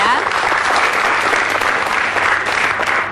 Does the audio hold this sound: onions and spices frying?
no